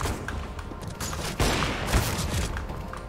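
Gunfire from a first-person shooter video game, played with a Razer Basilisk V3 mouse, comes as a dense, loud volley of rapid shots and booms over a couple of seconds.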